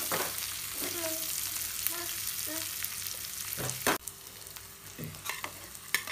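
Crackling sizzle of spices tempering in hot oil for a green gram curry, with occasional stirring scrapes and clinks of a utensil against the pan.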